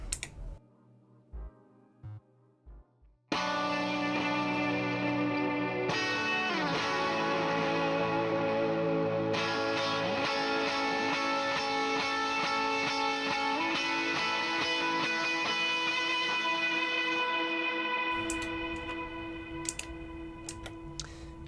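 A sustained, overdriven electric guitar with reverb and quarter-note delay from a Boss RV-500 rings out with thick distorted chords and single notes, loud and continuous, after a few quiet plucked notes at the start.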